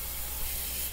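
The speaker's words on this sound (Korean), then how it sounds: "그라인더를 통해서 배관을 갈아줍니다." An angle grinder cuts through a drain pipe during replacement of a leaking sewage line in an apartment laundry-room ceiling. It makes a steady, loud, abrasive hiss with no pauses and no voices.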